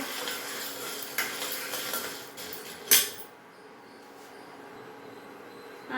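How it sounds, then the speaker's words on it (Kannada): Chickpeas being dry-roasted and stirred in a pan, giving a steady close rattling scrape with one sharp clank near the middle, then settling into a quieter hiss. "ಇದು ಕಡಲೆಕಾಳು ಹುರ್ಕೊತಾ ಇದ್ದೀನಿ"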